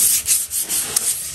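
Scrubbing pad rubbing at rust stains on a bathtub, a brief burst of a few quick, harsh scouring strokes, close and loud, with no talk.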